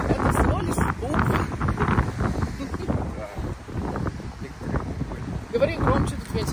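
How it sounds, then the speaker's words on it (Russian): Gusty wind buffets the microphone in rough, uneven waves at an abandoned palace in Spain, rising and falling throughout with a rustling edge and no clear voices. "Говори громче, тут ветер."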